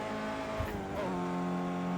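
An Audi A1 Quattro races around the Bathurst circuit in the Project Cars 2 video game, its engine droning steadily and shifting pitch mid-lap, with a brief tire squeal, all heard fairly quietly.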